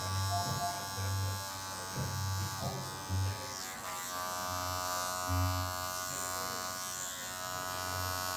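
Electric trimmer buzzing steadily while shaving up under the jawline, close and continuous with slight changes in pitch as it moves across the skin; a voice talks quietly over it.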